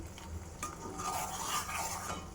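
Shrimp pickle ingredients fried in hot oil in a pan, a close, soft sizzle with a spoon stirring and scraping the pan in short strokes, quiet and with no talk.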